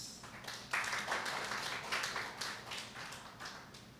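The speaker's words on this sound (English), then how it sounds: "congratulations and a warm applause for Dr." Applause at a doctoral conferment ceremony for the chief of the Philippine National Police, a soft, distant crowd clapping steadily throughout, fairly faint.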